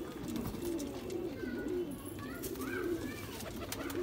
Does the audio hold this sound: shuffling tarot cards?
no